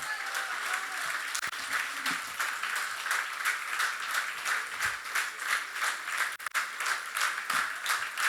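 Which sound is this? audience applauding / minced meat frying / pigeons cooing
audience applauding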